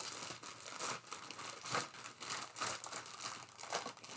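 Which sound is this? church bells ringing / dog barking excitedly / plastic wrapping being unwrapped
plastic wrapping being unwrapped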